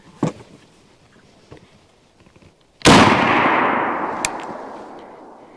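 A .375 Winchester rifle round, a heavy 255-grain jacketed flat-nose load, fired from a Winchester Model 94 big bore lever action: a few quiet clicks of handling, then one sharp, loud outdoor shot with a long decaying boom and a later metallic tick.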